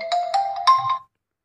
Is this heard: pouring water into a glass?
no